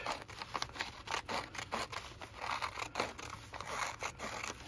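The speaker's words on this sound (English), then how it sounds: "Okay, so I'm gonna cut all of this off." Scissors cut through freezer paper in a run of repeated crisp snips with papery crinkling and scraping between them, close by and steady throughout, with no voices.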